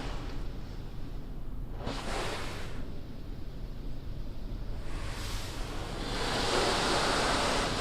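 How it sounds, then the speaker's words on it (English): Spot-free rinse spraying inside a PDQ LaserWash 360+ automatic car wash, a broad hissing rush of water jets swelling in two passes, the second longer and louder, over a constant background wash. "Doing a backwards pass of spot free rinse."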